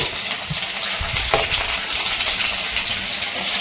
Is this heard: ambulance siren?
no